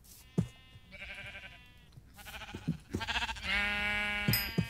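Sheep in the Minecraft video game bleat repeatedly inside a pen. The wavering bleats overlap and come at moderate volume, with faint clicks and game sounds underneath.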